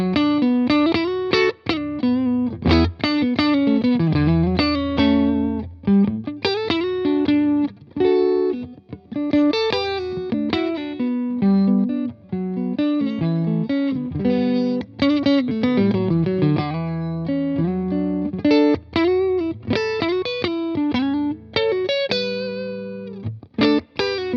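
An electric guitar plays through an Orange amp with a Tone King Imperial preamp, its reverb set moderately. Plucked notes and chords ring out steadily, alone and up close, with a slightly driven edge and a light ambient tail.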